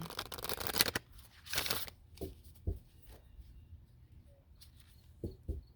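Two bursts of papery tarot card shuffling, then a few soft taps and rustles in an otherwise quiet room.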